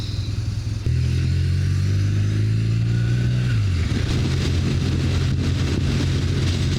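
BMW R18 motorcycle boxer engine fitted with an Akrapovic exhaust, starting up abruptly, then holding a loud, steady, deep idle that rises slightly before settling to a lower rumble, close by with no talk.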